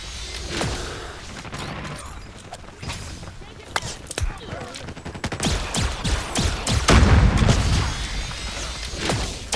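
Gunfire from the J358 Fin Funnel weapon in Call of Duty Mobile, fired unaimed: rapid bursts of sci-fi shots and impacts over a continuous game background, growing louder with a heavy rumble toward the end.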